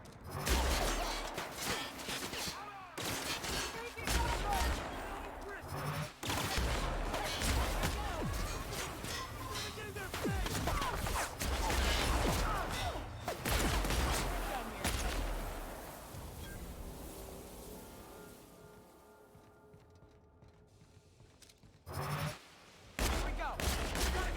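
Gunfire in the video game The Outer Worlds, dense bursts of shots and impacts in a continuous fusillade mixed with game effects and voices, easing off near the end before a final short burst.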